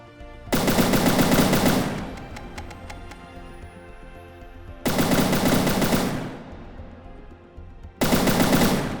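Bursts of rapid machine gun fire from a player-built weapon in the game From the Depths, three loud sustained volleys of about one to two seconds each, separated by quieter gaps with ringing mechanical noise.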